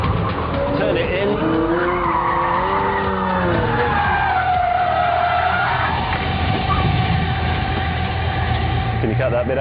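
A Pagani supercar corners hard, its engine note rising and falling as the tires squeal and skid loudly and continuously through the bend.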